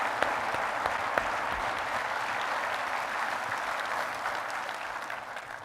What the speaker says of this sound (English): let's give that honor guard and band that just came in here, let's give them a round of applause